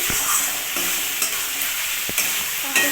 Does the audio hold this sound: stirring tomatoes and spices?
yes